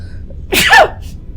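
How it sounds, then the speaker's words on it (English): One sharp, close sneeze bursts out loudly after a brief intake, against a faint low background hum, in the game Stasis: Bone Totem. "Sneezing."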